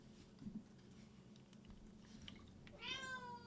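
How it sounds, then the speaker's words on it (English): A pet cat lets out a single drawn-out meow near the end, faint and somewhat distant, after quiet shuffling and small soft noises in a calm room. "My cat's apparently not happy about it"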